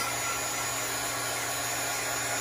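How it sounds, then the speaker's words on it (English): A heat gun blows hot air over stamped ink on cardstock, giving a steady whooshing roar with a constant motor whine, close and unbroken. "I'm going to just hit this with my heat gun for just a minute to make sure the ink is really good and dry"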